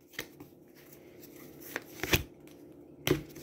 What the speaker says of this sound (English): Ma, I want you to shuffle for me.